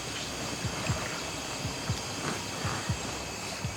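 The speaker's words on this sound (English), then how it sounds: "There's a lot of splashes going on." Repeated splashes of water at night in the wild on a remote island, short irregular bursts every half second or so over a constant hiss of flowing water and surf, with no talking.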